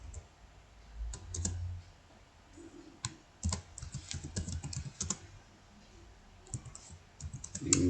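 Brisk computer keyboard typing as a narration is entered into Tally Prime accounting software, with irregular bursts of clicking keystrokes close up and short pauses between words.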